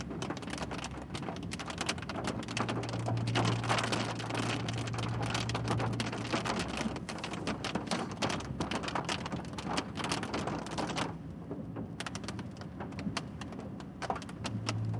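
Fat raindrops pelt down during a Central Texas storm with no hail, a loud continuous hiss of rain with dense spattering on surfaces and a faint low rumble underneath, going on for the whole stretch.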